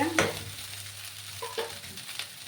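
Paneer cubes drop into a hot frying pan for a leftover-rice dish, setting off a steady close sizzle with a couple of brief stirring scrapes and soft knocks.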